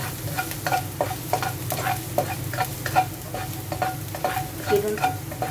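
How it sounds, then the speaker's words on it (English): Garlic sautéing in hot oil in a pan for shrimp pancit canton gives a steady, close sizzle with regular scraping stir strokes, repeated taps of a utensil against the pan, and no talk. "I have heated the pan with some oil, and let's saute the garlic."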